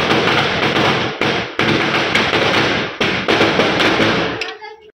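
A long string of firecrackers bursts in a loud, dense, rapid crackle of overlapping bangs, with a few short breaks, then cuts off near the end.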